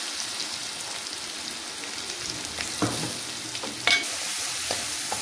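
Onions sautéing in a pan with crushed cinnamon, cloves, fennel, ginger and garlic for potato rice make a steady, close sizzle with a couple of brief stirring scrapes.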